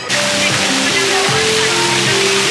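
Water features at a new water park playground pour and splash in a steady, loud, close rush of falling water, with a few faint voices in the background.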